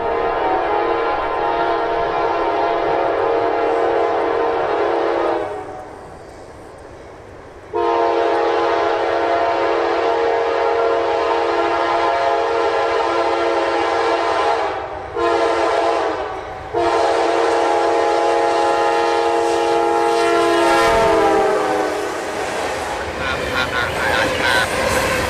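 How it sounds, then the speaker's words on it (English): A southbound freight locomotive on a busy Jacksonville mainline sounds a loud, sustained multi-tone horn in long blasts with a brief pause, growing nearer, over rumbling engine and rail noise. "I could hear the horn of M457's lead motor from miles away as he crested the hill southbound towards us."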